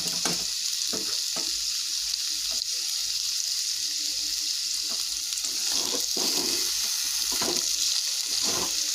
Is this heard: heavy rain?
no